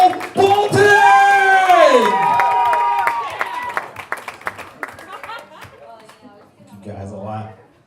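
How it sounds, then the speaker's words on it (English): A stand-up comedy audience at a club show whoops and cheers loudly, then keeps clapping as the cheering fades, with the claps thinning toward the end and a voice speaking at the close. "Continue to clap for Joel Bolton."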